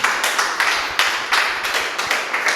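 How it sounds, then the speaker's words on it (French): Audience applause at a 8 March event honouring single women, a fairly close patter of clapping in uneven bursts, with a few sharper individual claps standing out. "Est-ce qu'on peut applaudir pour toutes ces femmes célibataires"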